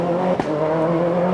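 Rally car at the Molls Gap stage start line of the 2000 Killarney Rally of the Lakes, its engine holding a steady tonal drone near the listener with a brief burst around midway.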